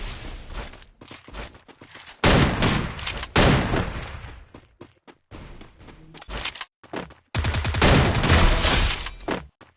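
Gunfire in a Free Fire video game match comes in loud bursts of rapid automatic shots. Quieter gaps between the bursts hold single shots and footsteps.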